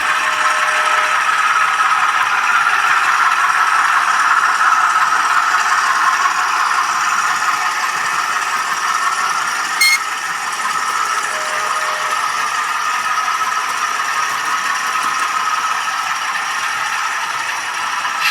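A Rapido MLW M420 model diesel locomotive climbing a gradient on model track, giving a continuous mechanical rattle and gear whir with a faint motor hum, steady and close with a brief click midway.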